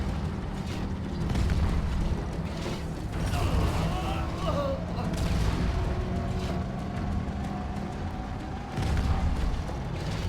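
Cannons fire in the video game Halo 2, deep booms and mechanical creaks rolling under a dense, continuous wash of battle noise.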